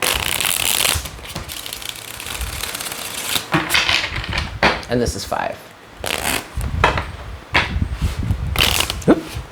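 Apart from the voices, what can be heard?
shuffling a deck of tarot cards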